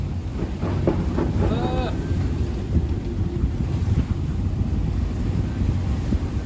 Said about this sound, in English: 6 foot swell and 25 knots of wind